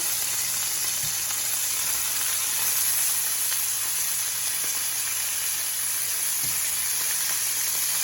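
Meat sizzles and fries steadily in a pan alongside peas for a peas-and-carrots dish, a continuous close hiss with a few faint clinks and no talking.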